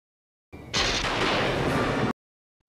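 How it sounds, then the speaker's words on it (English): A thunder sound effect in a Gacha Club animation: a sudden loud crack that swells into a dense, heavy rumble, then cuts off abruptly after about a second and a half, with no talk. "Please tell me that wasn't thunder."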